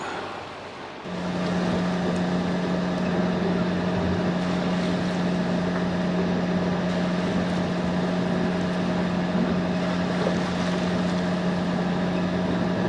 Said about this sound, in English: we're still on the engine, as you can hear